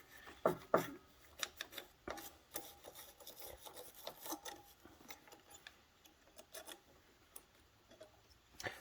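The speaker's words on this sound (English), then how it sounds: "I'm using a regular toothbrush because I forgot to get a wire brush at the store" A regular toothbrush scrubs the rear brake retainer clip of a 2018 Harley Davidson Softail Sport Glide, making close, irregular rasping bristle strokes in short bursts with small ticks and knocks between.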